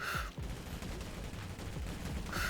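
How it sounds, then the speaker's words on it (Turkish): Rapid gunfire in a bank robbery video game: dense, overlapping bursts of shots at moderate loudness continue throughout without a break. "Abi bütün mermiyi boşalttım üstüne."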